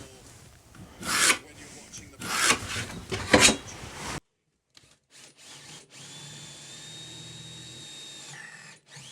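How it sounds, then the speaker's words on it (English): A drill bores into a wooden panel for a cat house build to start a cut, with three rough grinding bursts, a brief pause, then a steadier whining run at close range. "I'll have to drill in to start the cut."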